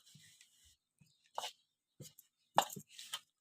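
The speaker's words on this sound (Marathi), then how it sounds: "खोबरं बारीक करून घ्यावं खोबरं चिरून घेते" Coconut is cut into small pieces with a knife, giving sparse, quiet taps and thuds spread irregularly, with a few sharper chops clustered near the end and no talking.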